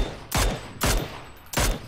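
Three sharp bursts of M249 machine gun fire in a desert shooter video game, each a short loud volley spaced about half a second apart, heard alone without talk.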